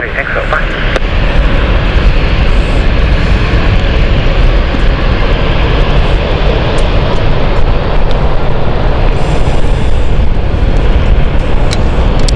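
A jet airliner on the Frankfurt flight passes near London City Airport, a loud, steady broadband roar that holds throughout with no clear rise or fade.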